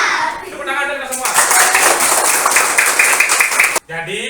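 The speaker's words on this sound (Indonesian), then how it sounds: "Tepuk tangan kita semua" A classroom of children clapping in unison, a dense burst of rhythmic hand claps lasting about three seconds, loud and close, with children's voices chanting just before and right after.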